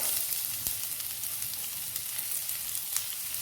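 Chopped onion sizzling in melted butter in a pan, a quiet, steady crackling fry with occasional sharper pops and light stirring, no one talking.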